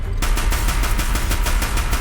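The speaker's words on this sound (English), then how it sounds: "Guess I can try the cannon again." A mounted cannon in Horizon Zero Dawn fires as a rapid, steady string of loud, close shots over a low rumbling background.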